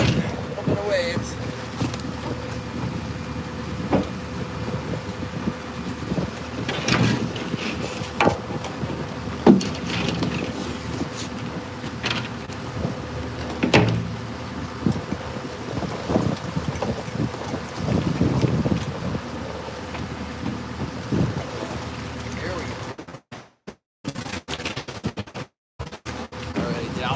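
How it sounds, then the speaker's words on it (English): Wind and waves in a fishing video game set at sea, heard as a continuous rushing, washing bed of wind noise and water, fairly loud and steady, cutting out in brief dropouts near the end. "A little bit of wind, a little bit of waves."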